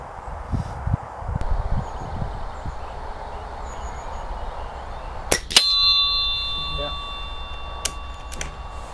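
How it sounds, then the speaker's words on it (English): An air rifle pellet strikes a metal bell target 25 yards away outdoors, giving a sharp impact followed by a clear ringing ding that fades over several seconds, after rustling and wind noise. "so I've got a bell target at 25 yards."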